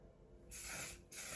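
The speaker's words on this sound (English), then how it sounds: "And also the one size, what's it called? Until Dawn mattifying spray." Two quick bursts of One/Size Until Dawn mattifying setting spray mist onto a face, close and hissy, each lasting about half a second with a short pause between them.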